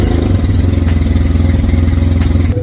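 A motorcycle engine idling as it warms up before an oil change, a steady loud low rumble with a fast even pulse, close by and continuous.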